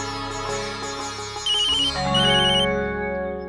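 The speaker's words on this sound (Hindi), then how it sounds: "माँ का फोन है।" An incoming phone call signalled by a melodic ringtone that chimes in repeated electronic phrases, fairly loud and close, with a fuller low-pitched tone swelling in partway through.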